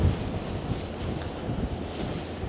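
Wind blowing hard across the open, cloudy viewpoint at Glenariff Horseshoe, a steady gusty rush buffeting the microphone at moderate level with no one speaking.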